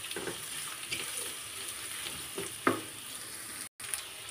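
Green chilli and spices frying together in a pan, a constant close sizzle broken by occasional stirring knocks and a brief cutout near the end, with no voices.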